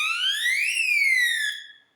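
A modified taser's built-in alarm gives a loud electronic sweeping tone, rising for under a second, then falling and fading out, with no talk.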